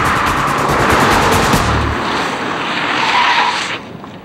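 A Mazda car driven hard through a pylon course, with loud tyre squeal and skidding over a strained engine, continuous and close, easing slightly toward the end.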